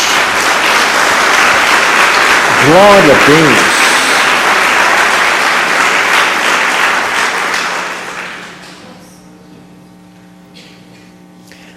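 A church congregation breaks into loud, sustained applause during a service, clapping densely and close for several seconds with a brief spoken exclamation over it, then fading away as the clapping dies out.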